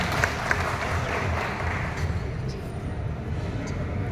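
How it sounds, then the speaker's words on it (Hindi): Audience at a Hindi poetry and literature gathering clapping, with a steady, moderately loud wash of applause throughout and some crowd murmur underneath. "एक बार अपने लिए जोरदार तालियां बजाकर।"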